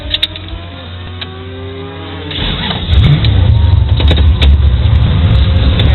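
The Jigmobile car launches down a drag strip: a low idle and rumble swell into a loud, sustained engine roar as it accelerates, heard close and dominating throughout.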